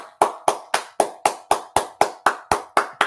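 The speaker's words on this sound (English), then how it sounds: "Let's give her a round of applause" Round of applause delivered as a dozen crisp, perfectly even claps at a quick steady beat, each ringing briefly before the next, with no talk over them.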